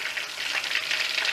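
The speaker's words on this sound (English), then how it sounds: "Okay, so I've put some oil into a large pan and I'm deep frying these" Chicken skewers deep frying in oil in a large pan, a steady close hiss and crackle of sizzling that holds evenly throughout with no voices.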